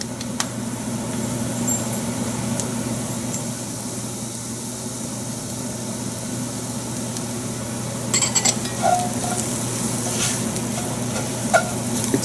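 Spices including smoked paprika sizzle steadily in a hot pan while being stirred, with occasional scraping and clinks of a utensil against the pan over a constant frying hiss.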